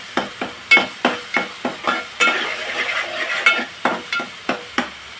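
Coriander, three green chillies, garlic and ginger fry in hot oil, a spatula scraping the pan in quick, regular strokes over a steady close sizzle, with no talking.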